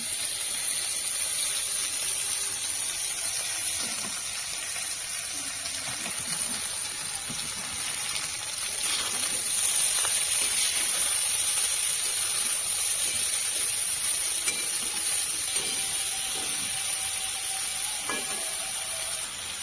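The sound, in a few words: water spinach (kalmi greens) sizzling in hot oil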